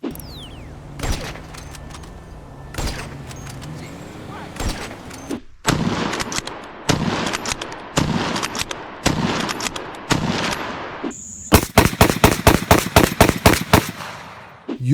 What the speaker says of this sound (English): the heavy sniper has a bolt action sound when scoped in